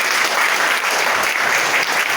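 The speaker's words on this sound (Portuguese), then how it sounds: "E aplauda Jesus por isso" A church prayer-group congregation claps in praise, a dense, even burst of many hands filling a short stretch without any voice on top.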